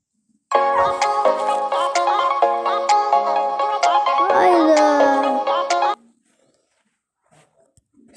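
A phone ringtone plays loud and melodic for about five seconds as repeated bright tonal notes, then cuts off to near silence.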